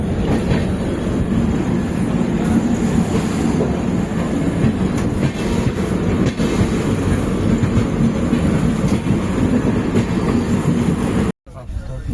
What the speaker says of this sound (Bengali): আমাদের ট্রেন শিয়ালদা দিয়ে ছেড়ে দিল, রওনা দিয়ে দিল।